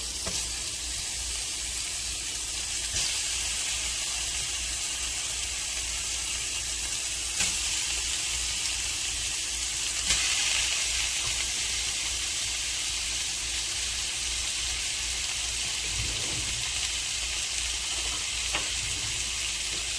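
Bacon frying in a heavy-bottomed sauté pan, a steady broadband sizzle that holds evenly throughout with a few small pops and light stirring clicks, close by and with no talking.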